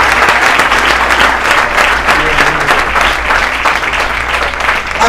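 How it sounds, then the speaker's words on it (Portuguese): Sustained, loud applause from a church congregation during a worship service, dense and steady for the full stretch with no speech on top. "Quem pode aplaudir a presença do Espírito Santo nesse lugar?"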